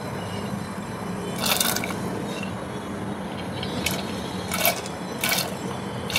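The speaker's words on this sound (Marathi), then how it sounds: "आता भिजवलेली चण्याची डाळ आपल्याला घालायची आहे." Soaked chana dal tipped into a pot of hot water on the stove, giving a few soft, splashy bursts against a steady low background hiss.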